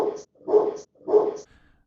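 A golden retriever gives three short, evenly spaced barks, each a loud burst close by with brief silence between, the last followed by a faint trailing sound.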